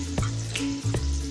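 Chopped onions fry in hot oil with asafoetida, giving a brief, close, continuous sizzle with a couple of quick clattering stir bursts.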